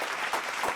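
Brief burst of audience applause at a live comedy show, a short wash of clapping from a crowd.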